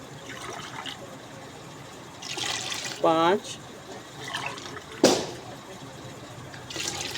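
Glasses of water are poured into a pot of rice for aloo pulao, heard as a brief splashing pour and a sharp clunk, with someone talking around it in a home kitchen.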